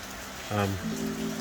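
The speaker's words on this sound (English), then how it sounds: "it's rain's pretty heavy today" Heavy rain pours down steadily at a farm home in Samoa, a constant hiss beneath a voice that speaks through most of the moment.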